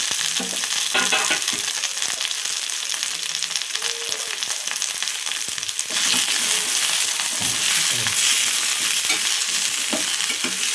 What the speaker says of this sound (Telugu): కొత్తిమీర, పుదీనా, కరివేపాకు ఇవన్నీ వేసి మంచిగా దూరగా వేసుకుందాం.